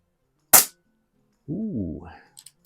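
A PCP target air pistol fires a single Meisterkugel pellet in a sharp, short crack, after a moment of silence, followed by a brief tonal whine and faint clicks.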